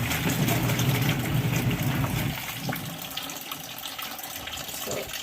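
Water rushes loudly into an RV washing machine as it fills, a steady broadband gush that drops to a quieter, thinner trickle partway through.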